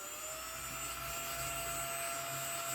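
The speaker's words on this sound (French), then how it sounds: "Mon aspirateur, il les aspire pas." A household vacuum cleaner runs steadily with a loud, even whine and broad rushing noise, alone with no pauses.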